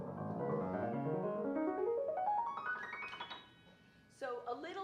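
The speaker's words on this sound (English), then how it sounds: "If you play only the black keys" A piano plays only its black keys, climbing a pentatonic scale in a steady run of rising notes that grows higher and thinner, then stops; a brief separate sound follows at the end.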